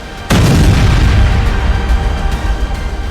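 A bombing explosion strikes the Natanz nuclear facility in Iran, a sudden loud boom with a deep low rumble that rolls on and slowly fades, broken by a few faint distant pops.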